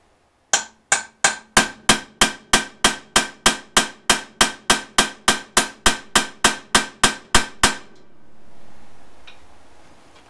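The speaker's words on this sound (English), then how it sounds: "Now I'm just going to start hammering it with the punch" About twenty sharp metallic hammer strikes on a punch against a Honda CX500 Comstar wheel during disassembly ring out in a fast, even rhythm, then stop, leaving a faint hum.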